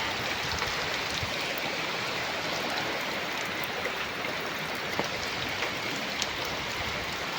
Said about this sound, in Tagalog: maraming tubig lang yung nilabas ng bagyo. Umapaw na siguro yung ilog.